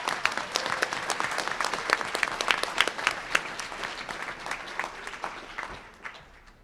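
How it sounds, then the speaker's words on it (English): An audience at a King County disability legislative event breaks into applause, a fairly close burst of many hands clapping that swells, holds, and then gradually thins out. "So give yourselves a big round of applause."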